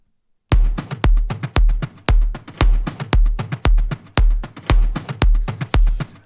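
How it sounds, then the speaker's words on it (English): Steady, punchy kick drum thumps about twice a second, with two slightly different percussion leads layered over it in a driving electronic groove, loud and continuous with no talking. "And if I play them with the kick drum, it sounds like this."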